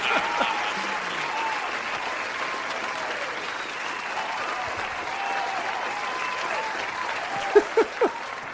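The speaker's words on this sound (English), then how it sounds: "Let's give this guy a round of applause" A live audience breaks into sustained applause, a dense steady wash of clapping lasting throughout, with a few sharper louder claps standing out near the end and some voices mixed in.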